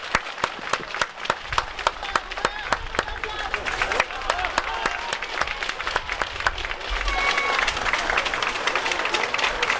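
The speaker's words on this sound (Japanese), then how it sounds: "激戦を戦い抜いた両チームの選手にもう一度温かい拍手をお送りください。" Crowd applause for both youth basketball teams after a junior tournament awards ceremony in a gym, with sharp individual claps standing out from the steady clapping and a murmur of voices underneath.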